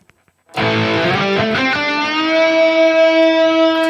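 An electric guitar played through a Recto Modern amp model with a detune effect on a Mooer GE300 rings out after a moment of silence, a few picked notes settling into a sustained, thick chord that holds loud to the end.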